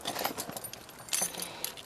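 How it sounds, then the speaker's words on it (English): Keys jangle faintly as they are pulled out at an outdoor trailhead, giving a few soft, scattered metallic clinks and rustles close by but at low volume. "Let me get my keys out."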